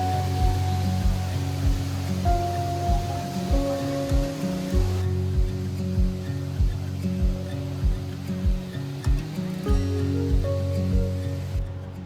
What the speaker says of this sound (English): Kravice Waterfalls